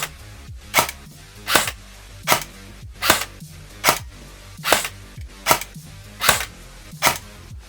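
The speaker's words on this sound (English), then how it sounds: "Listen to the noise of the gears. It's twangy, it's boingy, it's whiny." An electric airsoft gun fires about ten single shots at a steady, slightly uneven rhythm, each a sharp close crack with a brief springy gearbox twang.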